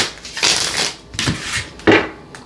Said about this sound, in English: Let's shuffle this real quick.